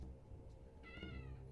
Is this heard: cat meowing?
yes